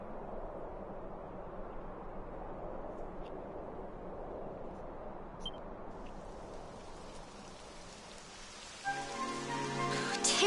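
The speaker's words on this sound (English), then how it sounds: "It would have to go and start raining, wouldn't it?" Rain falls in the Dragon Quest video game, a soft steady patter that fades slightly before louder rain and music-like tones swell near the end.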